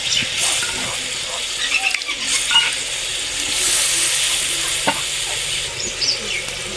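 Water and fried duck eggs going into a sizzling gravy, a loud close hiss and bubbling with stirring scrapes and a few clinks, rising and settling over several seconds.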